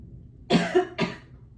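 Two short, close coughs, the first harsh and drawn out, the second briefer, in an otherwise quiet room.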